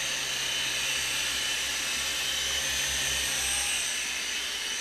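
A Sky Rover Navigator toy drone hovers nearby, its small propellers giving off a steady high-pitched whine with a faint low hum beneath, even and unbroken throughout.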